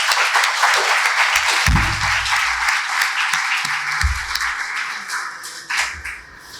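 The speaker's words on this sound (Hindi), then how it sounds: "उनके लिए एक बार ताली तो बजानी चाहिए" An audience claps for teachers at a talk, a sustained patter of many hands with a few louder close claps and faint voices mixed in.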